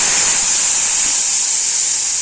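A loud, steady hiss of water sizzling in a hot pan of frying pulichcha keerai, continuous and close, with no other sounds.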